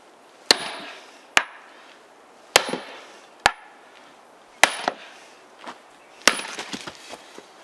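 Heavy blows from a diamond hammer strike tough wood about six times at uneven intervals, each a sharp crack followed by splintering and creaking, loud and close.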